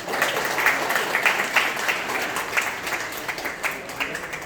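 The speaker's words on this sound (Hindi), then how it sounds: "एक बार जोरदार ताली चाहूंगा।" A crowd gathered at a funeral gathering breaks into loud, sustained applause that stays steady and close throughout, with faint voices murmuring beneath the clapping.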